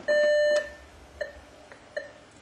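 A czamD4 badge reader gives a sharp electronic beep, steady and clear for about half a second, followed by two short, quieter chirps spaced apart.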